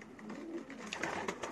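Racing pigeons coo softly and repeatedly at close range, with low burbling calls over faint background noise.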